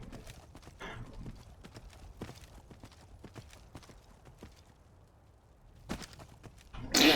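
Horse hooves clip-clop in Skyrim, a steady run of sharp, close footfalls that thins out briefly, then picks up again before a louder burst at the end.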